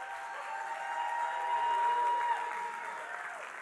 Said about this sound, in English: You should clap your hands and shout.